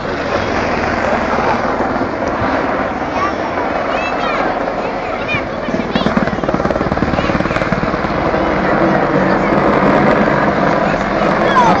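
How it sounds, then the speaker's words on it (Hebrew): An Apache (Peten) two-seat attack helicopter passes over a pilot graduation ceremony at Hatzerim, its steady rotor roar and turbine whine holding loud and continuous throughout while an announcer speaks over it. "הפטן מסוק קרב דו-מושבי בעל יכולות אסטרטגיות מדהימות"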